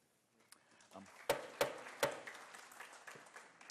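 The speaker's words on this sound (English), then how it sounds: "I know it's very nice to applaud, but we do try not to do that here" Scattered applause from an audience at the Amherst town meeting, starting with a few faint claps, then several sharp, close claps rising into a brief ripple of clapping that fades out.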